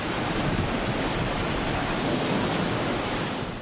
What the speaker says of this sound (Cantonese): 不斷有白頭浪拍打岸邊